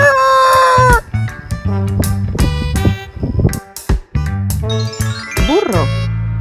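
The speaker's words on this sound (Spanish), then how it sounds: "Gallo." A farm rooster lets out a loud crow at the start, followed by playful chimes and jingly music.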